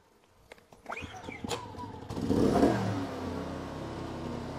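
A ProQuip QRV4000iS silent inverter generator starts with a few clicks and knocks, then catches about halfway through and settles into a steady, fairly loud running hum nearby.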